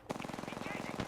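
Rapid automatic gunfire in a squad-based shooter video game, a dense run of evenly spaced loud shots lasting about a second with no pause between them.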